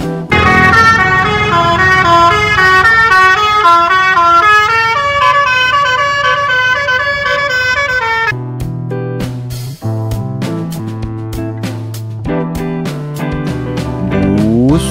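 Telolet musical air horn of a Java Queen bus playing a loud, close, rapid melodic run of tooting notes, then shifting to a lower, choppier sequence of horn tones.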